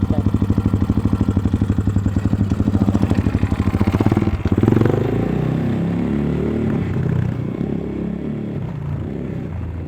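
A dirt bike engine runs close by with a rapid, throbbing chug that rises as the rider pulls away using the clutch, then settles into a steadier, rougher drone.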